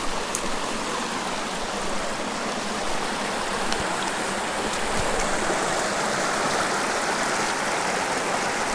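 A clear creek in the Black Hills flows and burbles steadily up close, a continuous broadband rush of water with no talking.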